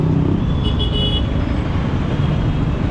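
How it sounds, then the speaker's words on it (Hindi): Heavy road traffic surrounds a scooter on an all-India road trip near Raipur, a dense, loud and continuous rumble of engines and tyres with a short high horn toot partway through. "इतनी ज़्यादा ट्रैफिक है ना भाई"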